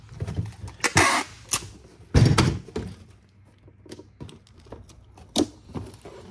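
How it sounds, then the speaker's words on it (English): Packing tape pulled and pressed onto an old, busted priority mail cardboard box, heard as a series of close, sharp rips, thumps and taps in irregular bursts with quieter gaps, no talking. "It's busted, see that there? Just so y'all know, so we're gonna tape that"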